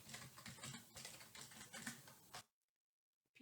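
Keys on a computer keyboard are typed in a quick, uneven burst of soft close-up clicks that stops abruptly into near silence, followed by a faint click at the very end.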